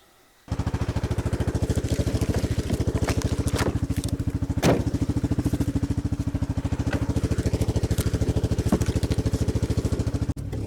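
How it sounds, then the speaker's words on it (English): A four-wheeler ATV engine runs steadily with a rapid, even chugging pulse, close and loud, with occasional clatters and thumps while riding through woods to fetch basswood firewood; it cuts off abruptly near the end. "now I'm gonna jump on the four-wheeler and go grab some of that basswood"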